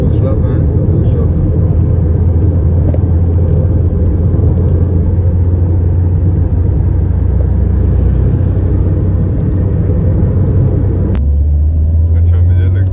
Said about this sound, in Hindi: अच्छा मुझे लगता है यहाँ आने लगा तूफान और क्रेजी मौसम है अब इसमें.